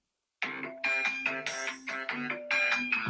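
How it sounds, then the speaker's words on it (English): A telephone rings with a bright electronic ringtone, repeating melodic chiming pulses that start abruptly and continue steadily at moderate loudness with no talk over them. "the phone fucking starts ringing"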